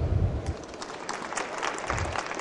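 A standing conference audience applauds on request during a talk, giving a steady wash of many hands clapping together in a hall.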